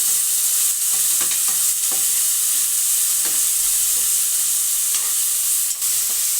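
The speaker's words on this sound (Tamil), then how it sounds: "இது நல்லா இது வதங்கட்டும்" Onion and tomato sautéing in a pan for chicken (nattu koli) biryani, a steady close sizzle and frying hiss with occasional stirring scrapes and taps, no talking.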